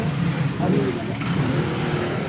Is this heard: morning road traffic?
yes